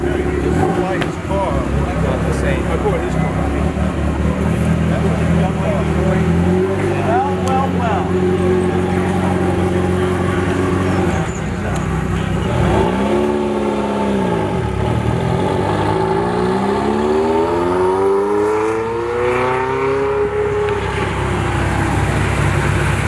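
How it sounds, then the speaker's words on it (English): A Ferrari 288 GTO drives off while a Mercedes 300 SL Roadster rolls in, engines idling and revving with passing swells at moderate distance, mixed with steady background noise and voices. "Filming the 288 GTO leaving as a 300 SL Roadster pulls in"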